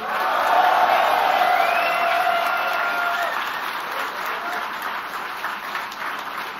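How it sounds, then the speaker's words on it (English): An esports crowd at DreamHack Invitational in Stockholm cheers and applauds for a home favourite StarCraft II player, a loud sustained roar of clapping and whoops that slowly fades. "But please make some noise for the home crowd favorite, Jinro."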